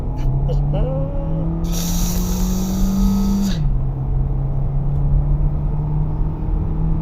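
An Audi Q3 Black Edition 35 TFSI with a 1.4 turbo engine, driven at night, makes a steady low cabin rumble and road drone with a sustained tonal hum, plus a brief brighter burst midway.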